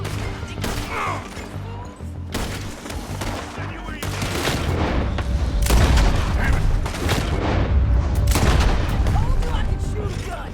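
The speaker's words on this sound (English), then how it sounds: "Told you I could shoot a gun, didn't I?" Gunfire in the Red Dead Redemption 2 video game, with loud, rapid, repeated shots and booming cracks crowding together in a chaotic firefight that grows denser and heavier toward the end.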